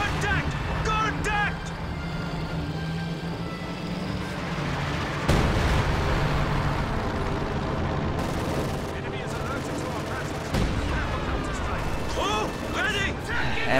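An ML-20 artillery barrage strikes a Pak-43 gun position in a World War II strategy game, loud booming impacts and crackling gunfire mixed with battle noise, with a voice talking over it.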